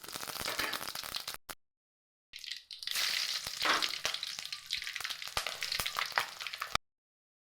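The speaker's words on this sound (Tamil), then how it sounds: "வச்சுருக்கோம் எண்ணெய் போட்டுக்குவோம் கடுகு" Mustard seeds frying in hot oil in a pan, a crackling sizzle that stops for a moment, then bursts back loud and popping before cutting off.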